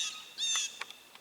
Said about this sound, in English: Oh, there's a bird fight.